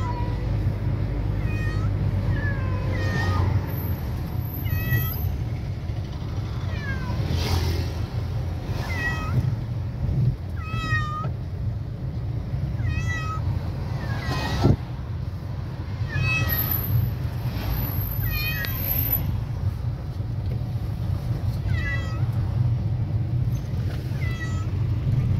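Frightened cats meow repeatedly from inside a carrier cage in a car, a steady run of close, plaintive cries over a low engine rumble, with occasional brief quiet voices.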